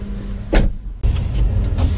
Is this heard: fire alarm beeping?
no